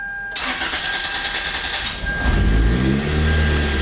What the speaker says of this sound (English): let's go ahead and start the car now